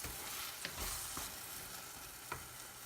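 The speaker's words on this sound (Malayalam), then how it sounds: "ഇതിപ്പോൾ ഞാനൊരു 3 ടൊമാറ്റോയാണ് അടിച്ച് ചേർത്തത്." Blended tomato poured into spices frying in a pan for a coconut-milk egg curry, giving a steady low sizzle with a few soft stirring clinks, close and quiet, with no voices.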